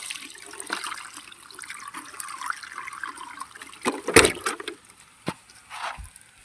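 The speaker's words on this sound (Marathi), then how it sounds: "त्याचं पाणी कमी करून दाखवतो किती आहेत ते." Water tipped out of a plastic bottle trap holding river-caught fish, a trickling pour with sharper splashes and knocks toward the end, close by.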